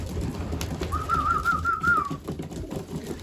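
A single warbling coo rolls out from a racing pigeon inside a loft, a wavering call lasting just over a second over low background rustling.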